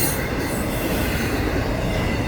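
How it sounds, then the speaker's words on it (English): Long freight train on the Florida East Coast Railway rolling past loud and close, a dense continuous roar of wheels and cars with faint squeal, no voices. "super long train today."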